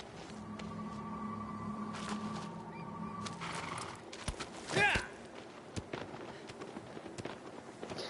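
A horse gallops through the video game Shadow of the Colossus, its hoofbeats clip-clopping amid game ambience and a brief rising cry near the middle.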